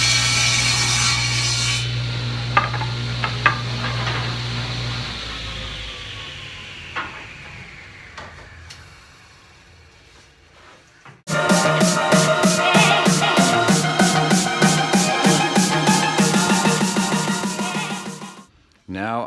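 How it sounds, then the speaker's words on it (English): Saw ripping the tongue off a wooden tongue and groove board: a dense, loud rasping cut with rapid repeated strokes through the wood, starting after a quieter stretch and ending abruptly, with some talk earlier. "I just ripped the tongue off this tongue and groove board"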